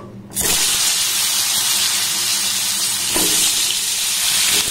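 Sliced pointed gourd hits hot oil seasoned with turmeric and salt, a loud steady hiss of frying starting abruptly and sizzling evenly throughout, with a couple of faint utensil knocks.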